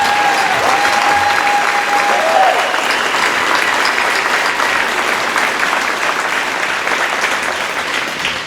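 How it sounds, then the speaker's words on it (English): Dense, steady applause from a large crowd at a high school football state championship welcome-home celebration, loud and continuous with a brief whistle early, fading slightly at the end. "And let's have a round of applause for that."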